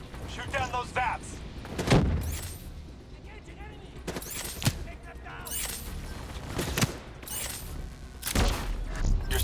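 Gunfire in Call of Duty Black Ops 3 shoots down VAPs in repeated loud bursts and booms, spaced a couple of seconds apart, with game voices speaking between and under the shots.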